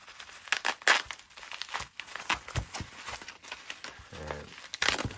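A pack of trading cards is torn open, the wrapper crinkling and ripping in a few close, sharp bursts over several seconds at a moderate level.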